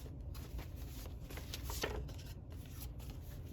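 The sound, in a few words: tarot cards being shuffled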